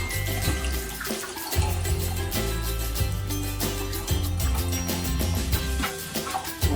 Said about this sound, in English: So we're going to try to flush again.